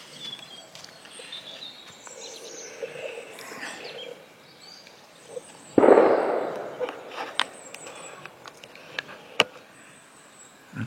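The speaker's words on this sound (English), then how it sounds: "Someone's doing shotguns" A single distant shotgun bang in a forest, a sharp report with a trailing rumble that stands out above a quiet woodland background with faint birdsong and a few scattered clicks.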